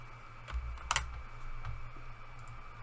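Keys tap on a computer keyboard while an account number is entered, a few soft, scattered clicks at close range over a quiet background hum.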